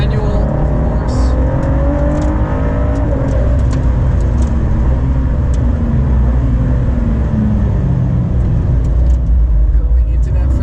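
A McLaren Senna pulls away on track under a steady, loud engine drone that holds constant throughout, with a voice talking over it.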